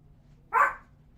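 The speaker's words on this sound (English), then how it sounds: "The guy's out there, so she's gonna bark." A dog gives a single sharp bark at someone outside the house, close and fairly loud, standing alone against a quiet indoor background.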